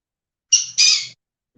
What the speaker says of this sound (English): I have all of my bird is squawking away.